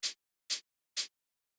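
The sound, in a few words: powerful shaker sample in a deep techno track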